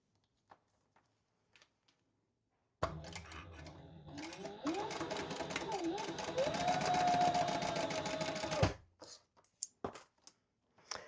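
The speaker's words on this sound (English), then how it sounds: "And I'll just do some chain stitching." Sewing machine running a chain stitch with white Tech 70 thread on white croc material, a steady fast mechanical whir lasting about six seconds, rising slightly before stopping, followed by a few clicks and handling noises.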